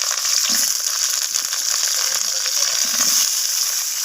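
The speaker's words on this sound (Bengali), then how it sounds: "তো এর মধ্যে আমি কেটে রাখা আলুগুলোকে দিয়ে দিচ্ছি।" Cut potatoes frying in hot oil in a wok give a loud, continuous sizzle with dense crackling, steady throughout without talk.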